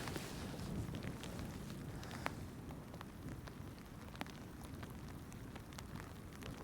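Steady, dense patter of heavy rain on a surface while ice fishing for crucian carp, faint and continuous, with occasional sharper drops and no voices.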